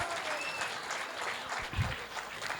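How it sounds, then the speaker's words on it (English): Audience at a preschool event applauding, steady dense clapping from a crowd with a voice speaking over it. "Give them a big round of applause."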